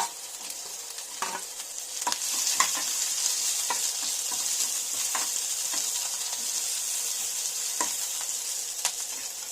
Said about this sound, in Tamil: எண்ணெய் காஞ்சிச்சு. கடுகு போட்டுடலாம். பச்சை மிளகாய் கருவேப்பிலை போட்டுடலாம். வெங்காயம் போட்டுடலாம்.